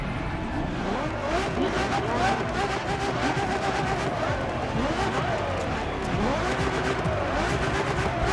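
A Ferrari in The Crew Motorfest racing game runs at a steady, continuous engine drone with shifting revs and some tire squeal, loud and sustained throughout, with a voice talking over it.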